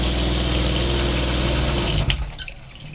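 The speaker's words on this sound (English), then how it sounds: "This pump allows you to draw water from the freshwater tank through to your water tap shower." Water runs steadily from a camper's tap, fed by a freshwater-tank water pump. A continuous close gush with a low pump hum beneath it stops abruptly near the end, followed by a couple of faint clunks.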